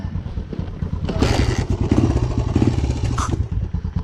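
Dirt bike engine, a Yamaha YZ85 or Suzuki DRZ125, running loud and close with a steady rumbling drone that swells as it revs, with a few clattering thumps from the ride.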